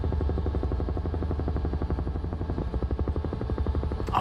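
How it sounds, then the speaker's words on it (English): A helicopter flies in Microsoft Flight Simulator 2024 near Area 51, its rotor chopping in a steady, rapid, loud rhythm throughout with no voices. "But such an awesome helicopter."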